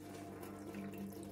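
A NORDBERG NW20 parts washer for chainsaws runs its water jet, a steady splashing flow like a running tap with a faint underlying pump hum, continuous and close, with no voices.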